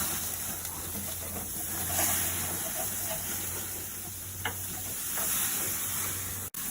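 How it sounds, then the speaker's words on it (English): Hamburger steaks sizzle in a frying pan with a steady, close hiss, broken by a few soft clicks and one sharp knock near the end. "So I'm gonna flip them now"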